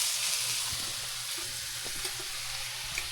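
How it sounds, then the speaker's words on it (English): Jimmy Dean sausage frying on a small electric skillet, a steady soft crackling hiss with occasional faint pops and light clinks, with no talking. "This is some Jimmy Dean sausage that I'm cooking on my little electric skillet here."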